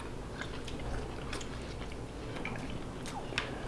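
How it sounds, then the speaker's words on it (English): Fried sunfish is chewed close to the microphone, giving soft, wet bites and faint crunches repeating over a few seconds, with no talking. "I'm still chewing."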